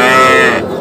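A single loud, close moo from a bovine at a village cattle market where young bulls and heifer calves are sold, one sustained low bellow that trails off.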